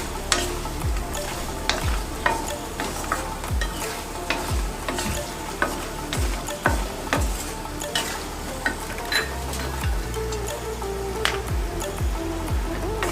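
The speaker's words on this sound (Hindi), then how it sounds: "मखाने भी हमारे फ्राई हो गए" Fox nuts (makhana) fry in desi ghee in a pan while being stirred. Steady close sizzling runs under repeated scraping strokes of a spoon, with no voices.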